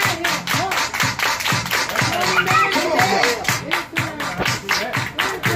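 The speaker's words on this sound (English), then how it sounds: "Everybody clap your hands." An audience at a Labor Day party claps in a fast, steady rhythm of sharp, close hand claps, with voices talking and calling out over the clapping.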